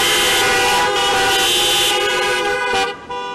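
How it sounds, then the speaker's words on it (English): Car horns honk together at an Easter drive-in church service held in a parking lot, a loud sustained chorus of overlapping toots that cuts off and fades near the end. "if you believe that Christ is risen, I want you to honk your horn"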